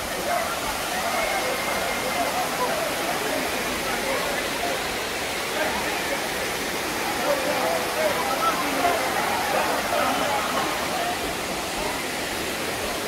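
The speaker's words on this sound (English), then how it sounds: "beautiful cascading waterfalls" Steady rushing water pours continuously at Dunn's River Falls, Ocho Rios, Jamaica, a broad even roar of a cascading waterfall heard fairly close, with no breaks.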